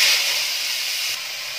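Drumstick flowers added to hot oil in a pan, giving a steady loud sizzling hiss that stays broad and even throughout, with no talking.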